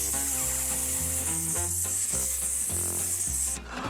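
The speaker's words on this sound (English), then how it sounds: "once the frying pan is hot, you put a little bit of butter in it and let it sizzle" Butter sizzles steadily in a frying pan, a bright hiss running under a tuneful musical backing with a low, stepping bass.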